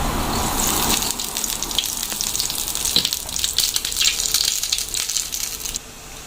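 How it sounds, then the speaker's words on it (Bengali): Black cumin and dried chilli sizzling in hot oil in a pan, a steady loud crackling hiss that eases off slightly toward the end. "এখন এর মধ্যে কালো জিরে দিয়ে দিলাম"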